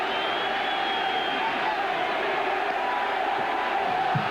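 Crowd noise fills a baseball stadium during a 1998 Baltimore Orioles at New York Yankees game, a steady distant roar of cheering and whoops that holds level throughout without a clear peak.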